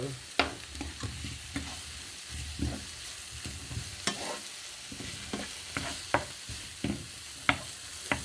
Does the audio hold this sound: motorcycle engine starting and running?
no